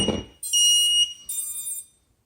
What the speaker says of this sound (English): it does have a buzzer